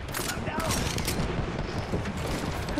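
Dense, continuous gunfire and explosions in the battle royale video game Apex Legends, loud and crowded throughout with a voice talking over the action.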